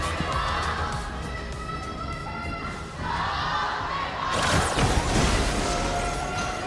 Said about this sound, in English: we can hear the rumble by the crowd. They're cheering now.